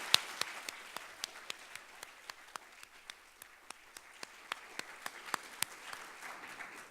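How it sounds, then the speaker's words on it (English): Scattered clapping from a symposium audience honoring the evening's speakers: a thin, slow run of distinct individual claps, fairly quiet and steady, with no talking. "I would like for us to all clap one more time for all of our speakers"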